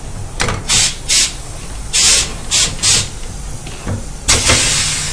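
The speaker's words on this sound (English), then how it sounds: "it's going to come in and clamp the wheel." A tire machine clamps a BMW S1000RR motorcycle wheel with a series of loud pneumatic hisses and bursts. The blasts come in irregular clusters and are heard up close, with no speech.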